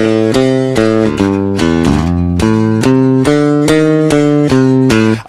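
Electric bass picked near the bridge in a jazz blues setting, giving a bright, punchy tone. A steady run of loud, evenly spaced notes is heard alone with no talking.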